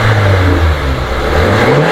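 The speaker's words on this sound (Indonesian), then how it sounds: "Dan coba sekarang kita naikkan RPM, kita dengerin suara RPM tingginya." A 2018 Daihatsu Grand Max engine revs hard close by, a loud, sustained roar whose pitch shifts as the revs climb and hold, with no talking over it.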